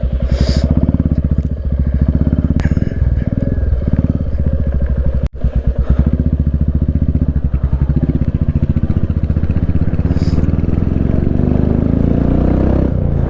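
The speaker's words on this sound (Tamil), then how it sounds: "வண்டி செகண்ட் கியர்லேயே செம பிக்கப்புங்க." A new Royal Enfield Bullet motorcycle pulls hard in second gear, its thumping engine note loud and steady throughout with continuous road and wind rush, rising as it gathers speed.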